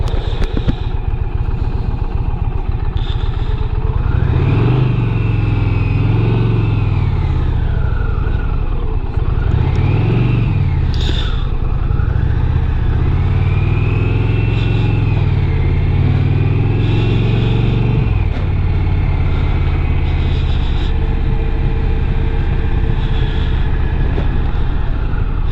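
A 2020 Indian Challenger Limited motorcycle pulls away loudly and close, its engine revving up through several rising and falling surges before settling into a steady roar.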